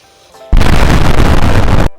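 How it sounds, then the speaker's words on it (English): A firework explodes in the video game Hello Neighbor: a sudden loud blast after a quiet start, sustained as a dense crackling roar for over a second before cutting off abruptly. "lit the firework, and exploded it in his face"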